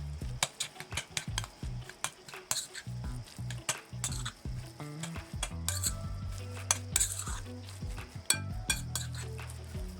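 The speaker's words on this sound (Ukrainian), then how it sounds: "І все дуже добре перемішуємо" A utensil stirring cream cheese spread in a bowl, with repeated scraping strokes and light clinks of metal against the dish in an uneven rhythm.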